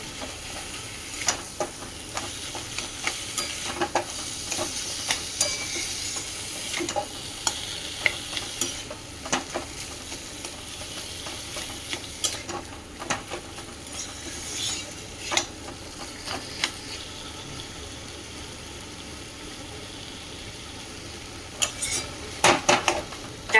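Vegetables and green plantain stir-fry in a pan, with continuous sizzling and frequent scraping, clinking spoon strokes against the metal, close and busy throughout.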